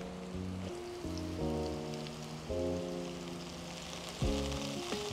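Garlic and onion frying in a pan with a splash of soy sauce, a bright steady sizzle with occasional stirring clatter and tonal clanks of utensils against cookware, close and fairly quiet.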